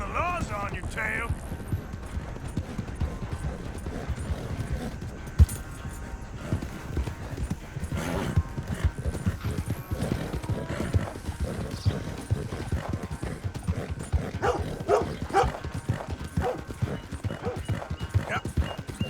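Horse hooves clip-clop steadily throughout a ride in Red Dead Redemption 2, a continuous close rhythmic patter with a brief whinny near the start, while a voice talks over it.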